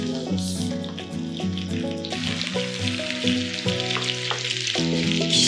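Shrimp fry in butter in a pan with a steady, moderate sizzle that carries on underneath louder background music throughout.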